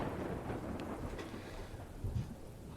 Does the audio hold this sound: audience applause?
no